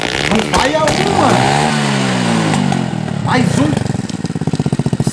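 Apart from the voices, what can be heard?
motorcycle engine revving through exhaust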